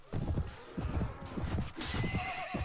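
Horse from the video game Mount and Blade: A Clash of Kings whinnying loudly over steady galloping hooves amid battle noise, the neighs rising and falling through the whole stretch.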